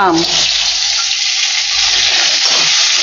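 A steady, loud sizzling hiss of raw mango pieces frying lightly in hot oil, continuous and close, with no talking over it.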